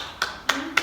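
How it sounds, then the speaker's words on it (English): Three sharp hand claps in a calculus lecture classroom, spaced out and fairly close, each a quick bright snap over a faint background murmur. "We don't want to clap our hand twice for one people."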